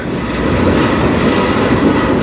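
A CN freight train rolls past close by on the Strathroy Subdivision, a loud, steady roar of wheels and railcars with faint clickety-clack throughout.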